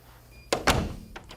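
A door fitted with a magnetic lock being shut, giving two close, heavy thuds in quick succession and then a couple of faint knocks, with no talking.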